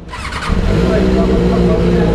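A big bike motorcycle engine with an aftermarket exhaust cranks and catches, settling into a loud, throaty idle that rumbles steadily close by.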